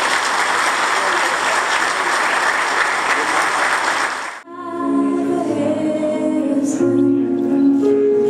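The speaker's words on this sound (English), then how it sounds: "Let's give them a big round of applause." Wedding guests applaud the newlyweds with loud, dense clapping for about four seconds, which gives way to music and a voice speaking.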